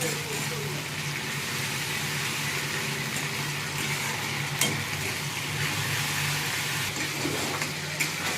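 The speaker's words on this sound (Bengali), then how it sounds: "আদা রসুনটা ভালো করে একটু কষিয়ে নেবো, কাঁচা গন্ধ করে নেবো" Ginger garlic paste fries in a pan for an aar fish curry, making a steady, even sizzle and hiss with a faint stirring scrape now and then, with no talking.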